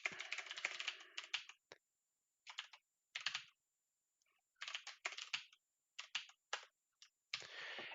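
Quiet bursts of rapid clicking keystrokes on a computer keyboard, typed in short irregular runs separated by pauses of silence.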